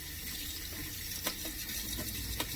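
Tap water runs steadily into a sink while a razor is rinsed, a continuous close wash of flowing water with a few brief splashy spikes and no talk.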